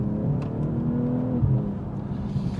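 BMW M240i xDrive G42 engine and exhaust accelerating, a steady close-up drone that rises in pitch through the revs, with a brief shift in tone midway and a faint whoosh near the end, without speech.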